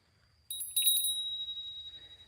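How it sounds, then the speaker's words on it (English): A small hand-held spirit bell rings once during a paranormal investigation, giving a bright, quiet metallic chime that fades away over about two seconds. "I call this my little spirit bell."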